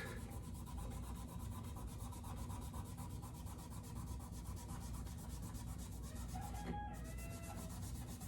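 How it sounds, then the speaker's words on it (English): A damp cloth rubs along the frets of a nylon-string acoustic guitar's fretboard, producing a faint, continuous close scrubbing over a steady background hum. "I'm just gonna kind of go over each fret and pick up that sweat and gunk and clean my fretboard."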